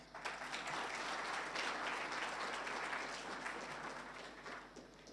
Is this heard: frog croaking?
no